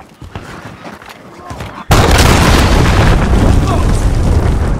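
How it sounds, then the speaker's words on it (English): Cruise missile strike in the video game Call of Duty: Modern Warfare, a sudden loud booming blast that stays as a dense, sustained roar after quieter gunfire and game chatter. "Enemy cruise missile incoming."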